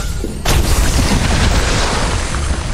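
An explosion in the video game Kena: Bridge of Spirits sets off a sudden loud boom that settles into a heavy, sustained rumble and debris roar lasting a couple of seconds.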